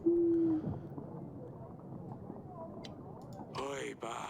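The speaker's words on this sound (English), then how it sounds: "I got a pigeon." A pigeon coos in the video game Yes, Your Grace: one short, steady, low hooting note at the start, followed by a dense murmur of background game sound.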